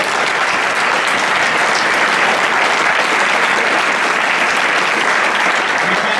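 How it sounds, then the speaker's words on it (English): A hackathon closing-ceremony audience breaks into loud, dense applause, a steady unbroken wash of many hands clapping close by for the whole stretch. "So a huge round of applause to you guys."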